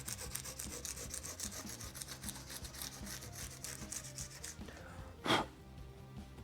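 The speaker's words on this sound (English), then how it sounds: "I'm gonna sand down all the file marks" Sandpaper rubbing back and forth over the fretboard of a Hagström Deuce-F guitar to remove file marks, a steady close scratchy rhythm that stops partway, followed by one brief louder knock.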